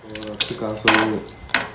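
A hand ratchet wrench works a spark plug out of a Suzuki GSX-R 600 motorcycle engine: three sharp metallic clicking strokes, close and fairly loud, each trailing off into a brief ringing.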